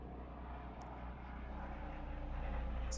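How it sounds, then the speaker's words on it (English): A helicopter flies overhead, its steady engine drone holding constant and slowly growing louder across the whole stretch, with no talking over it. "Helicopter flying over, but the mic, I guess, should filter it out."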